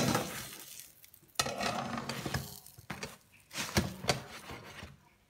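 Flatbread pan-frying on a hot griddle, flipped with two spatulas and covered with a lid; soft sizzling runs under intermittent scraping and clattering of utensils and pot lid, close and moderately loud.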